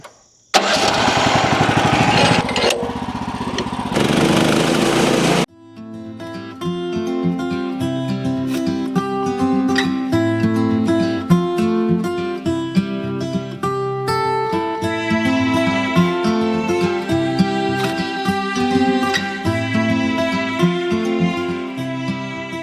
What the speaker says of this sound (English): right now I want to do another test of this engine